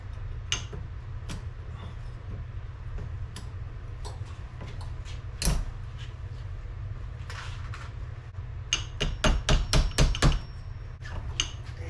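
Sharp metallic taps of a hammer and screwdriver knocking rusty piston rings loose on a 1976 Chevy LUV Isuzu engine, scattered single clicks building into a quick cluster of strikes.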